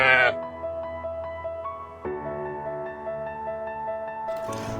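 Sheep bleating in a children's read-aloud animal story: a sustained, tonal, wavering bleat held for several seconds, loud and close, with a brief noisy burst at the start and end.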